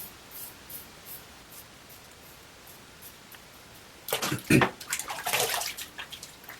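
Straight razor or safety razor scraping through shaving soap lather on facial hair, a close, crackly rasp of short bursts in the latter half after a quiet stretch.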